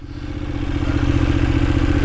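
A Benelli 752S roadster motorcycle being ridden in heavy traffic, its steady mid-pitched engine drone holding close and loud with a rhythmic low throb, slightly rising in level, no talking.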